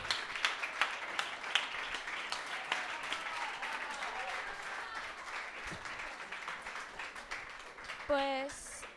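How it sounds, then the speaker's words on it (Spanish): Audience applause at a summer campus show honoring a student's drawings and photos, a steady dense wash of many hands clapping sustained throughout, with a brief voice near the end. "Un aplauso, please."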